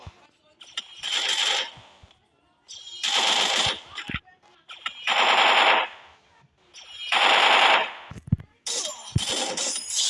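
Rapid bursts of MP9 submachine gun fire in the mobile shooter Free Fire, five loud automatic volleys of about a second each separated by short pauses, with a sharp crack or two between them.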